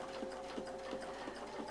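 A sewing machine quilting curves along a template, running steadily with a fast even stitch hum and a soft rhythmic thump about three times per second, close and alone.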